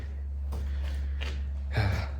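A dog snores softly nearby, a few slow breathy snorts and wheezes over a steady low hum, with one louder snort near the end.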